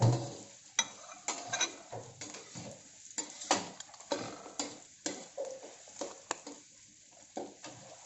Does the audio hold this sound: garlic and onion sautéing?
yes